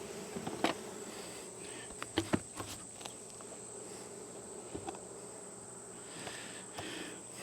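Honey bees buzz steadily in an apiary during an August afternoon while hives are being fitted with wax foundation, a low continuous hum with a few brief nearby knocks and rustles.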